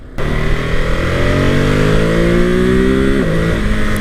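A 2021 Ducati Monster 950 motorcycle accelerates hard on a test ride, its engine note climbing loud and close through a long rising pull before a quick-shifter gear change drops the pitch; no talking.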